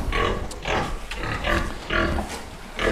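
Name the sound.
pigs grunting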